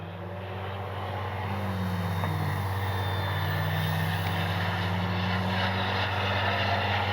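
An E-flite Timber SE RC propeller airplane drones steadily overhead at sunset, its engine tone holding loud and continuous with slight pitch shifts as it passes, with no talking.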